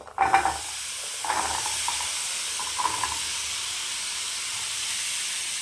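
Sliced onions dropped into a hot pan for mutton curry, hissing loudly at first, then settling into a steady, bright sizzle with a few stirring scrapes, no voices.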